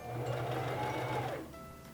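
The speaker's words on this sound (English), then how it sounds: "And then you will stitch that for about 6 to 8 stitches" A Singer Fashion Mate 3333 sewing machine stitches a buttonhole in one short, steady whirring burst of rapid stitching, close and moderately quiet, which then stops and leaves a faint hum.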